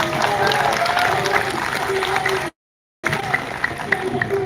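An audience at a human rights gathering applauds a speaker, with sustained clapping and crowd noise, briefly cut by a gap of silence before the clapping resumes.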